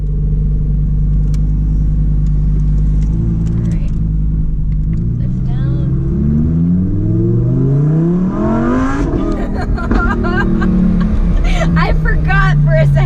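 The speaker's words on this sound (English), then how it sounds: "it's actually my very, very first time driving the Performante Spyder" A Lamborghini Performante Spyder engine drones and revs steadily while driving, with rising and falling pitch sweeps as it accelerates and shifts through gears, loud and close throughout.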